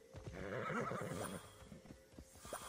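A horse in the video game Immortals Fenyx Rising whinnies loudly and close, a long wavering neigh followed by snorts and some hoof clip-clop, with no talking.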